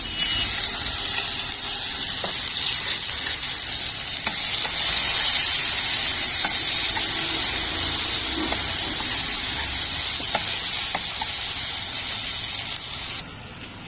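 Cumin seeds and potatoes frying in ghee in a pan, a dense, loud, continuous sizzle that holds steady from start to finish, heard up close with faint occasional clicks and no voices.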